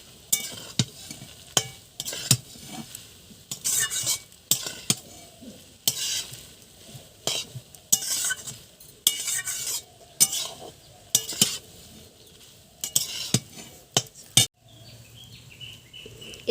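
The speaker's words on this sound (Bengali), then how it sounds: "এই সসটা দিয়ে চাউমিনটাকে নামিয়ে নেব। একটু ভালো করে নেড়ে চেড়ে নিচ্ছি আর একবার।" Vegetable chowmein with red chili sauce is tossed in a hot pan, with a spatula scraping and clanking in repeated, roughly regular strokes over a low background sizzle.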